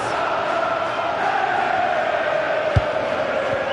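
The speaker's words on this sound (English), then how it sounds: "Well, just listen to this crowd. They want a bit more." A packed stadium crowd roars steadily through an EA Sports FC 26 football match, a dense, continuous wall of chanting and cheering with one brief thump near the end.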